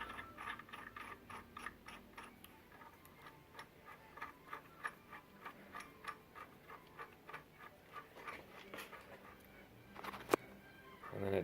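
A part is threaded by hand into a Mini Cooper R56 N12 engine, giving a faint, close series of light ratcheting ticks and clicks, with a sharper metallic click near the end.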